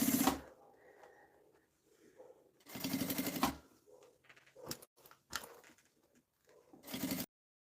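A sewing machine stitches fabric bias binding onto a cloth toiletry bag, in several short bursts separated by pauses, moderately loud and close, with faint handling noises between runs.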